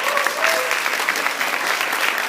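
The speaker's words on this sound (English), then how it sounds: "So big round of applause to RubyMax." An audience at a business summit presentation gives sustained, even applause, a dense wash of clapping from many hands with no pauses.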